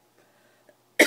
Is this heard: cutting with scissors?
no